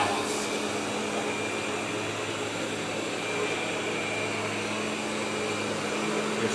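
A Roborock S7 robot vacuum running on its balance setting gives a steady, moderate whooshing drone with a faint hum, even and unbroken throughout.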